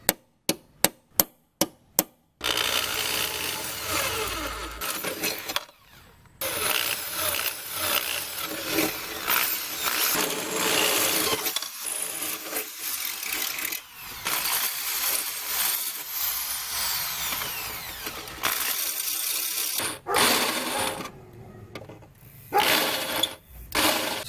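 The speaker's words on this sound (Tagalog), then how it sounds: "So magdi-drill na tayo." A power drill bores a hole in the body of a Corolla Big Body AE101. Several sharp taps come first, then a long, loud, grinding whine with brief pauses and restarts.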